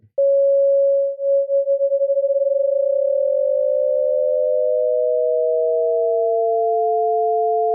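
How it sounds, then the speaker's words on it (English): Two pure sine tones start in unison and slowly drift apart in pitch, producing steady beating that quickens as the pitches separate, loud and alone with no other sound. "take two sine waves starting on the same frequency and gradually pull them apart"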